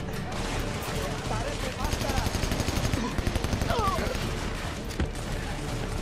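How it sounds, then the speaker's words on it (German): Sustained automatic gunfire from the shooter game Army of Two: The Devil's Cartel rattles in rapid bursts, dense and close with a loud shot near the end, while a voice talks over it. "Weil ich wurde nämlich dauernd von links angeschossen."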